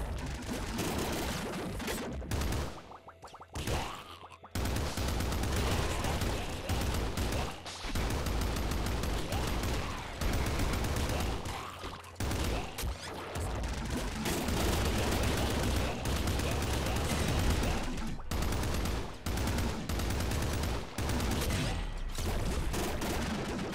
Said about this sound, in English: High sprung bouncer gun.